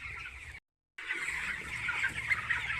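Broiler chickens, nineteen days old, clucking together in a poultry shed with wood-shavings litter, a dense continuous flock chatter broken by a brief silent gap.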